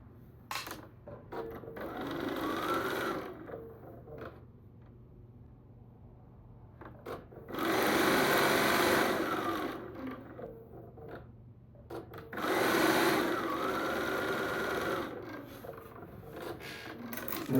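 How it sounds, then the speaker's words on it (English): A sewing machine stitches quilt pieces together in two bursts of steady whirring, each a few seconds long, with quieter rustling and handling of fabric in between. "we need to make sure that we sew each of these in the correct order"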